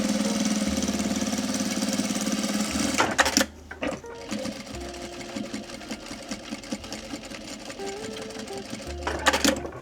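A sewing machine stitching fabric for a pair of shorts, running in steady mechanical bursts with short pauses between seams, close and loud.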